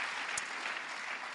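Church congregation applauding during a service, a short burst of steady clapping at moderate level with no talk over it.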